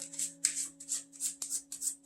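An overhand milk shuffle of playing cards: soft, rhythmic papery swishes, about seven evenly spaced strokes, close and quiet over a low electrical hum.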